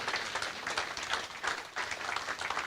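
Steady applause from a church congregation during a sermon, many hands clapping continuously in dense, even bursts throughout, moderately loud with a roomy feel.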